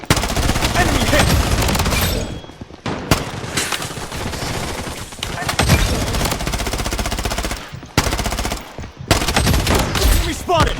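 Gunfire in the mobile shooter Blood Strike: dense, loud bursts of automatic weapon fire crackle almost continuously with brief pauses, under a player's voice and game callouts.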